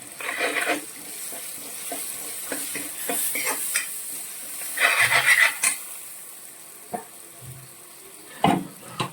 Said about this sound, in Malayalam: ലേശം മുളക് പൊടിയും കൂടി ചേർക്കുവാണ്